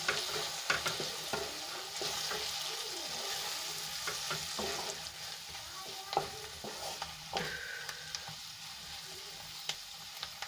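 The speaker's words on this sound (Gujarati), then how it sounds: "અહીંયા જે આપણે મસાલો બનાવીને રાખ્યો છે એ આપણે એડ કરી લઈશું અને સરસ રીતે આપણે મિક્સ કરી લઈશું" A spoon stirs prepared masala into ivy gourd (tindora) sabzi frying in a pan, giving a continuous sizzle broken by repeated scraping strokes, close and steady with no voices.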